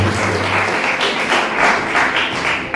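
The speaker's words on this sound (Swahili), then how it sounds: "Tumchapie Bwana makofi kwa ajili ya" Worshippers at a church service clap together in dense, steady applause with a loose rhythmic pulse, loud and close throughout.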